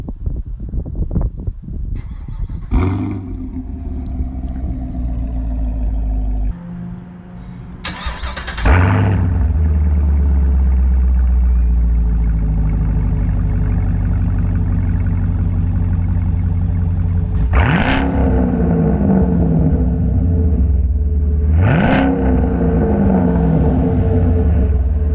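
A 2016 Chevrolet Camaro SS V8 with a Flowmaster exhaust cranks and fires up, settles into a deep, loud idle, then is revved several times in sharp, rising blips that fall back to a rumbling idle.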